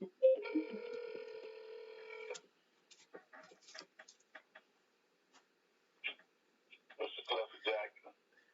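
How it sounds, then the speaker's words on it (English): A telephone rings with a long, steady electronic tone, then broken clicking and beeping from the line follows, and short spurts of faint voice come through near the end. "So I am going to give him a call right now."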